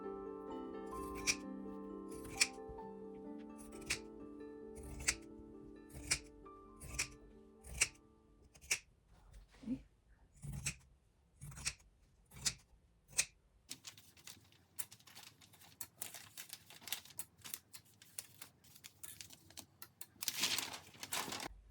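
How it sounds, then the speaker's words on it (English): Zigzag pinking scissors cut through fabric in a steady series of crisp, close snips, about one every second, then speed up into quicker, denser cutting with some rustling of cloth. "I still haven't found my scissors, so I'm going to use these zigzag ones here."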